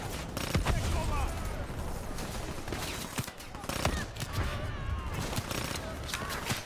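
A mounted turret gun fires in rapid bursts during a Call of Duty Black Ops 3 campaign mission, loud overlapping shots mixed with explosions while a voice talks over the action.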